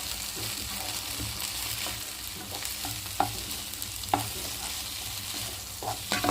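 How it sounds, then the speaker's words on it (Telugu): Fenugreek leaves stirred in a hot frying pan, steady close sizzling with scraping and occasional sharp knocks of a spoon against the pan. "మెంతికూర వేసుకొని ఒకసారిగా కలిపి వేసుకున్నాం"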